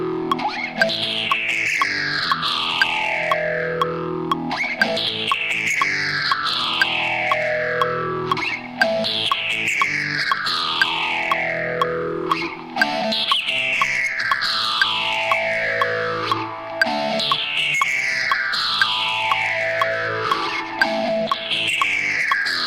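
Music track run through a Filter Freak effect, with repeating downward filter sweeps about every two bars over a steady, dense distorted groove, loud and continuous with no voices.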